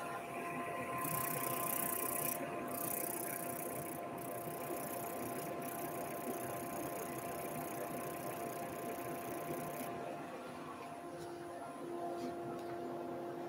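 A wooden toy race car being turned on a lathe with a chisel, a steady motor whir with a scraping hiss from the cut, fairly faint, with a couple of brief pauses early on.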